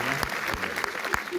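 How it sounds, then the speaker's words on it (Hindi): Scattered clapping from an audience at a Hindi comic poetry gathering, a few hands applauding briefly and unevenly, with sharp irregular claps close by. "4-5 लोग तालियां बजा दीजिए"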